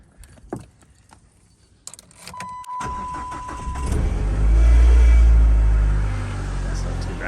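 A Chrysler PT Cruiser with a heater core bypass is started: a few key clicks and faint sounds, then the starter cranks and the engine catches and settles into a loud, steady idle close by.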